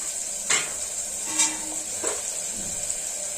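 Onions frying in a pan with salt for a home-made paya sherwa, a steady hiss of sizzling with a few louder scrapes as they are stirred, close up and with no talk.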